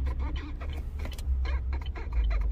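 A 2022 Chevy Malibu LT gives off a creaking mechanical noise from its brakes as the pedal is pressed. It repeats in short bursts over a steady low cabin rumble, close and moderately loud.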